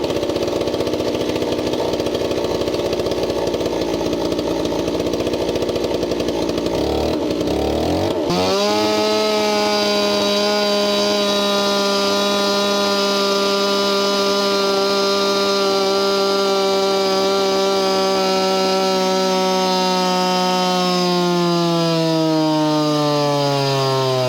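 A small single-cylinder engine with a surface gap spark plug, long decompression plug and 10 degrees of timing advance fires up on a dyno and runs hard. It makes a loud, steady buzzing drone that settles into a constant pitch and slowly sags toward the end.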